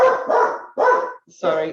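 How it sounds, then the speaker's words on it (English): A pet dog barks at a parcel delivery at the front door, three or four sharp close barks in quick succession, with a person briefly speaking over them. "The dog is there because somebody is dropping a parcel at the front door."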